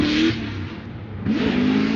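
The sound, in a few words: drift car engine revving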